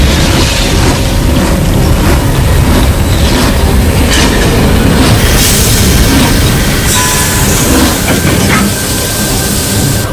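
A cartoon's monstrous devouring train roars in, a loud, dense, continuous rumble with clattering rail noise and hissing that fills the whole ten seconds without any talk.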